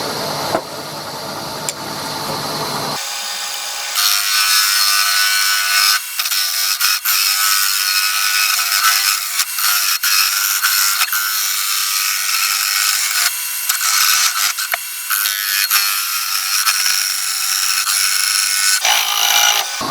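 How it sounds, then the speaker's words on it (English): A firewood vase is hollowed out on a wood lathe, a steady bright scraping hiss of the tool cutting the spinning wood that runs loud and continuous after a short quieter start, with brief dips as the cut pauses. "Just doing some hollowing out."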